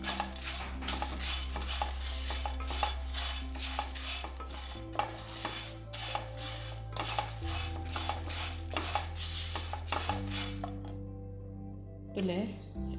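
Ingredients for a Tulu-style drumstick pulimunchi are stirred and fried in a pan on the stove, giving a steady sizzle with repeated clinks and scrapes of a utensil against the pan, while a person speaks over it.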